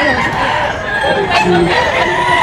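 A seven-month-old banded gamefowl stag crows loudly and close by, its drawn-out call rising over a busy poultry market with other roosters and clucking hens in the background.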